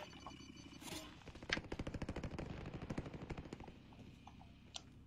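Rapid machine-gun fire in Call of Duty: Warzone on the Plunder mode, a long rattling burst of evenly spaced shots lasting a few seconds, with a couple of faint single shots before and after.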